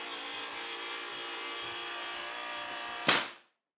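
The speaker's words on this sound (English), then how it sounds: "We like to use our Makita rail saw." Steady broadband whine of a Makita rail saw cutting through a saveBOARD lining board, running continuously for about three seconds before a brief louder burst as the blade exits and the motor winds down to silence.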